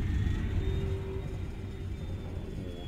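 Deep diesel locomotive engine in Train Sim World's Great Western Express, Aggregate Industries route, rumbling steadily after starting up, loud and close, with a faint high whine over the low throb.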